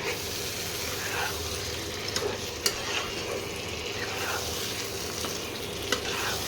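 Meat is stir-fried with spices in a pot for Bengali kosha mangsho. A steady, soft sizzle runs throughout, broken by periodic scraping stir strokes and a couple of sharp clinks of the spatula, close up and with no voices.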